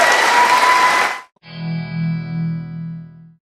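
Applause from a crowd as a dense burst of clapping that stops abruptly after about a second. A processed musical tone with a steady low hum follows.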